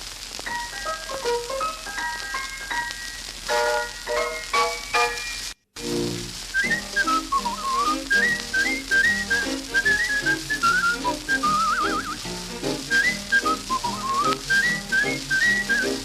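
A cleaned vintage 78 rpm record plays on a turntable with constant crackle and hiss under a whistled melody and band accompaniment, briefly cutting out partway through.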